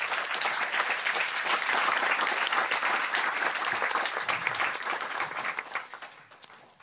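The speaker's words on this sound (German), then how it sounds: "Ich glaube, wir brauchen erstmal einen Applaus." An audience at a literary reading gives sustained applause, a dense wash of many hands clapping steadily in a room before gradually thinning out and fading toward the end.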